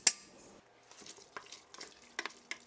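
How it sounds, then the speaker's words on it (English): Starchy pasta water is poured into a pan over cheese, giving a brief splash followed by light liquid sounds and a few small clinks and drips against the pan. "So here's that cheese and the pasta water. I'm just gonna pour it in there."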